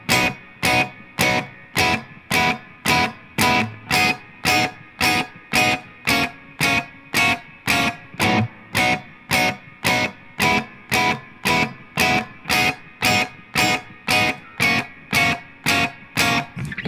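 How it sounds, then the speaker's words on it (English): A lead electric guitar plays a part from a song over a steady strummed rhythm, with distorted chord stabs chopped into an even, fast pulse that repeats throughout, loud and close. "now we introduce a lead guitar part here that'll sound like this"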